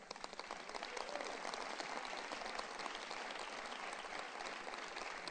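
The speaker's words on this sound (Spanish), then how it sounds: "Dale un aplauso al Señor." Church congregation applauding steadily throughout, a dense, even wash of many hands clapping at moderate distance with no voices standing out.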